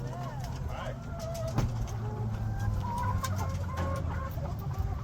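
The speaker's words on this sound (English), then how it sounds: "So these are all the chickens here." Egg-laying chickens clucking and chattering close by, a busy flock with overlapping calls and scattered squawks, with people talking faintly in the background.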